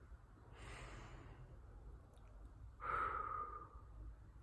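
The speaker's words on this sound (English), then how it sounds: "I'm going to take five heart breaths." Two slow, deep breaths, each a soft airy inhale or exhale lasting about a second, heard close and quiet against a faint hum, as part of a calming heart-breathing exercise.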